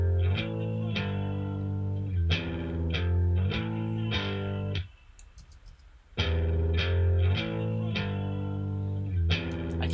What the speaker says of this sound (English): What if I just add a little bit of distortion?